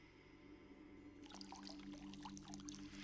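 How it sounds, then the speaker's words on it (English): Water is poured from a small bowl over a man's hands, a soft trickle and splash that begins after about a second of quiet and runs on faintly. "a man pours water from a small bowl over another man's hands"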